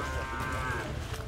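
Native cattle moo at a livestock market, a drawn-out bellowing call lasting most of the moment over a busy outdoor background with low rumbling crowd noise.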